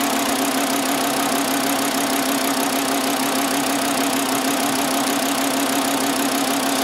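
The 2.5L engine of a 2009 Volkswagen Jetta is running with a misfire while a test light is used on an ignition coil. It gives a loud, steady, close engine drone with a rough, knocking edge and no pauses.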